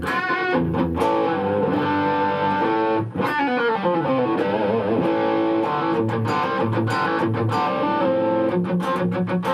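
An electric guitar through a boost pedal plays dry with no reverb, giving thick, sustained, overdriven chords and notes that ring continuously at steady volume, with no talking.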